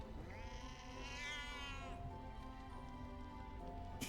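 A cat meows in Baldur's Gate 3: one drawn-out, rising and falling meow, clear and close, over a steady bed of in-game ambience and music.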